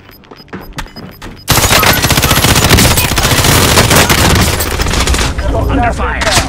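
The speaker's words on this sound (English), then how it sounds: "Under fire!" Rapid automatic gunfire in the shooter game Warzone erupts loud and close after a short quiet lead-in and continues as sustained bursts for several seconds, with a player's voice shouting over it.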